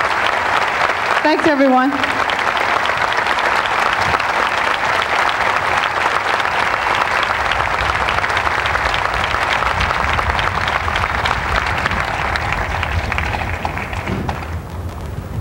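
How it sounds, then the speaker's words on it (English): An audience applauds at the International Tennis Hall of Fame induction of a player in 1987, a dense, steady roar of clapping that fills the hall, with a brief spoken thanks near the start and a slight fade toward the end. "Thank you very much for your applause."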